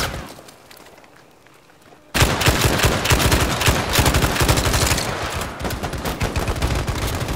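Battlefield 5 Pacific-front combat: after a quiet stretch of low ambience, dense loud gunfire suddenly erupts, with rapid machine-gun bursts and overlapping shots continuing without pause to the end.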